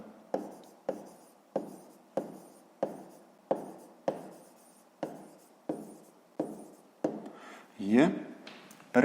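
A math answer being written by hand in a regular series of about a dozen short scratchy strokes, close and fairly quiet, with a brief louder scribble near the end.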